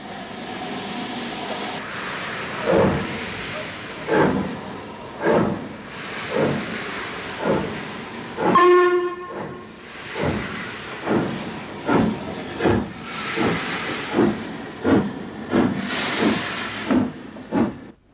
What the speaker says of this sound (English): A Black 5 has returned to Marylebone, once the most commonly seen engine here in the 1960s.